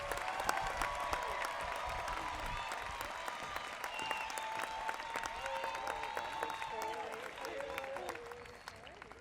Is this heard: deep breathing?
no